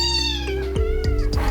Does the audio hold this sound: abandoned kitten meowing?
yes